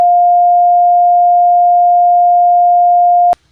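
A pure sine test tone near 700 to 705 Hz holds perfectly steady and loud for just over three seconds, then cuts off abruptly into silence.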